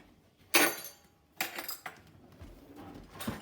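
Metal forks and cutlery clink and clatter in a few short bursts, quick sharp contacts against a quiet background.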